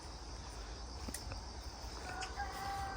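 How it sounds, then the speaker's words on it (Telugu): Chickens cluck and a rooster crows on a farm in Korea, fairly close, over steady outdoor background noise, with short sharp calls repeating through the stretch. "ఇంకా ఒక్కంత కోళ్ళు తిరుగుతుండే అటుకు వెళ్ళిపోయినవి"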